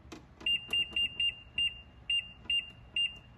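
A kitchen timer being set while iced tea steeps gives a series of short, sharp electronic beeps, about nine in an irregular rhythm, close and clear over quiet room noise.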